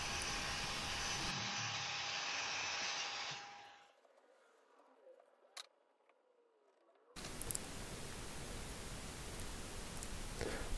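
A Makita miter saw cutting 45-degree miters in wood parts for a wraparound fireplace mantel: a loud, steady, broadband whir for about four seconds, a quiet pause with a small click, then another sustained loud run of noise.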